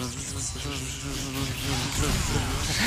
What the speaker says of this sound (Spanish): ¡Ah, una abeja! ¡Ah, me persigue!